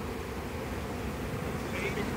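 Honey bees at a commercial beekeeping operation buzz in a dense, steady hum that fills the background, with people talking quietly over it.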